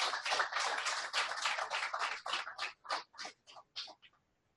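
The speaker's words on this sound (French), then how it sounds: "Encore un autre applaudissement pour ces gens-là." An audience in a hall applauds with steady, dense clapping that thins into scattered, separate claps and then stops, moderately distant and with no voices.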